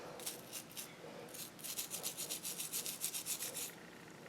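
An old brush scrubs stubborn sand grit from bike steering bearings, quick rhythmic bristly rasping strokes, close and fairly soft, with no talking.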